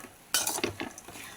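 Rice is stirred and mixed in a pan with a spoon, giving a short burst of scraping and clattering strokes that fade into softer rustles, quiet and close.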